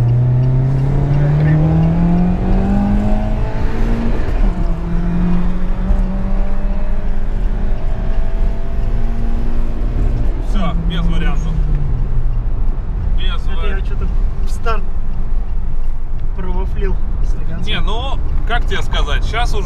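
A turbocharged Lada Kalina accelerates hard, its engine note climbing through gear changes with rising, falling pitch sweeps and a turbo whistle, loud and close throughout with road roar beneath.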